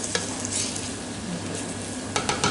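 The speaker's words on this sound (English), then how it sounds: "I'm just going to cook the next batch." Beef pieces frying in a little oil for a stew, a steady close sizzle with a few sharp stirring scrapes near the end.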